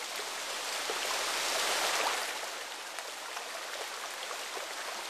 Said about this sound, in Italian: La serenità delle cascate nasconde la sua vera potenza.